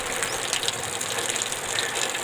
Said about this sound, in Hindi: बहुत ही तेज़ बारिश और ज़बरदस्त बारिश स्टार्ट हो चुका है।